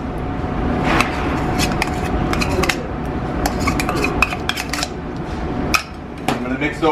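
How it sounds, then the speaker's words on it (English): Flour, sugar, spice and butter for a crisp topping are worked together by hand in a bowl, giving a steady close rustle broken by frequent sharp clinks and knocks of dishes. "Mix those up by hand."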